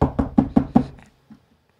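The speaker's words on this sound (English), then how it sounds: "There's a knock at the door." Five firm knocks on a door in quick, even succession, fairly close and loud, followed by a faint trailing thump and then quiet.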